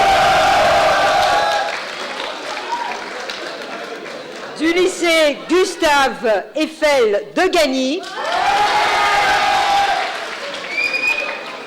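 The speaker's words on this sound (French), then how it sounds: "sur scène, vous pouvez les applaudir également" An audience applauds students on stage at a lycée gathering in Île-de-France, with loud, dense clapping and a few whoops that fade as a voice announces over a pause, then the applause swells again and continues to the end.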